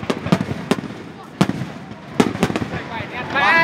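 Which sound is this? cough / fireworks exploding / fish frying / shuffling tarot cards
fireworks exploding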